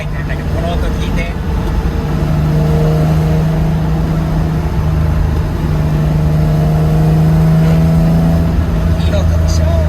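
Steady drone of a carbureted Nissan Skyline Hakosuka cruising in fourth gear, a loud continuous engine hum with a low tone, heard from inside the car with voices talking over it.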